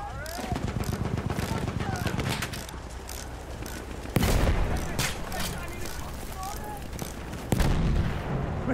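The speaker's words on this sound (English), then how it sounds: "Machine gun over there." Battlefield 1 battlefield with repeated machine gun fire and scattered shots and booms, a loud sustained barrage with sharp blasts around the middle and near the end, under faint game radio voices.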